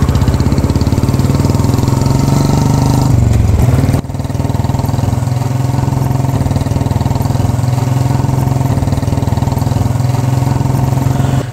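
A Royal Enfield Bullet UCE motorcycle engine runs steadily and loudly up close as it is ridden on the road, a continuous thumping drone with a brief dip partway through.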